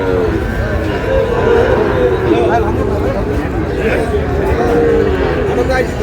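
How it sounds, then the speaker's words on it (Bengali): Sahiwal bull cattle at a busy livestock market in Dinajpur low and moo amid a steady hubbub of crowd chatter, with people talking nearby. "শাহিওয়ালের ষাঁড়।"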